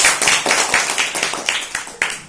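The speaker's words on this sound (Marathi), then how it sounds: "सगळ्याजणींचा अगदी उत्साहाने टाळ्या वाजवत आहे" Girls in a classroom game clap together in a quick, steady rhythm, about ten sharp claps close and loud over two seconds, with faint voices underneath.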